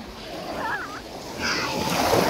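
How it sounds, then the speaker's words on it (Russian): Sea surf at a beach in Antalya, a steady wash of waves splashing close by that swells louder toward the end, with a faint voice briefly rising over the water. "Какое красивое море."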